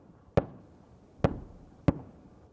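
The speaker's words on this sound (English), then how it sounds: "Our photojournalist Dan Hodge films powerful explosions as armored vehicles advance in the moonlit night." Three sharp, distant explosions boom at uneven intervals at night as armored vehicles advance in the Ukraine war, each a sudden crack followed by a short fading rumble.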